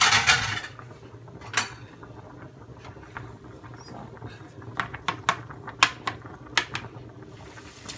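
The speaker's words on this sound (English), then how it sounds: "you see it's frying like this" Onion with cumin seeds sizzling in oil in a pan, a low frying hiss under sharp scattered clicks and pops from spatula and utensil contact, fairly quiet and close.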